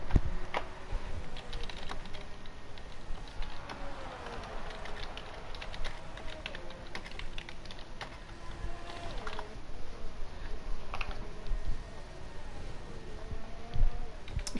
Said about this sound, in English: If you can hear me typing, I do apologise.